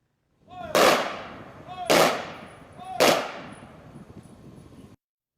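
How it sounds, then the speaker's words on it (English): Three rifle volleys of a 21-gun salute fired by the Nebraska State Patrol at a trooper's funeral, evenly spaced about a second apart, each loud crack trailing into an outdoor echo. "A 21-gun salute is one of the highest honors that can be rendered."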